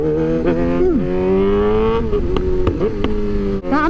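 Stock motorcycle engine dropping in pitch as the throttle is released, steady harmonic drone with brief dips and blips, loud and close, with faint wind rush and no speech.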